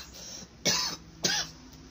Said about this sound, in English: excuse me if I'm coughing